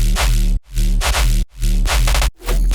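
Heavy bass synth run through an OTT multiband compressor at its default full-depth setting, playing three loud sustained notes with short gaps, dense low end and bright upper harmonics, no talk.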